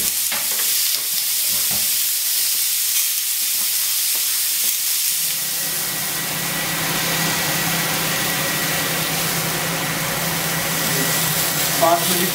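Souvlaki skewers sizzle on a grill, a dense, steady frying hiss that swells in after a few quiet seconds and then holds loud and close, with light clatter early on.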